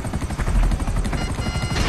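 A helicopter in the video game GTA Online gives a loud, steady rotor chop with rapid thumping beats and a dense engine roar throughout.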